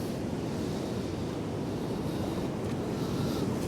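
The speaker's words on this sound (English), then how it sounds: "And then big waves coming over the top." Sea waves surging onto the shore below the eroding Happisburgh cliffs, a steady close roar of surf and rushing water mixed with wind buffeting the microphone, continuous with no voices.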